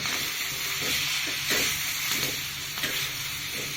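Bell pepper fries in a pan on a stove flame with a steady soft sizzle and hiss, broken by occasional light stirring scrapes.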